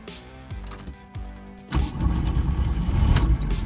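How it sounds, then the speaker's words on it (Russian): Lada VAZ 21099 engine cranking with a few rhythmic starter turns, then catching and roaring into a loud, rough idle close by. "Все, завелась машина."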